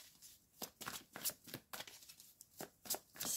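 Oracle cards are shuffled and drawn for a heart-chakra reading: a run of close, crisp riffling bursts in an uneven rhythm with short gaps, and no voice.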